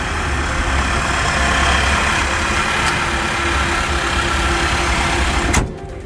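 A 2020 Nissan Titan SV pickup idling, a steady loud engine drone up close, ending with a short knock and sudden drop in level.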